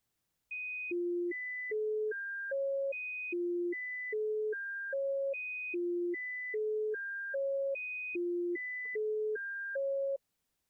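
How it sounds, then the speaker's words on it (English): Pure tones play in a slow repeating pattern of six, alternating high and low pitches, each short steady beep evenly spaced and repeated several times, clean and alone with no other sound. "Okay, we can hear the sequence of the 6 tones very clearly, right?"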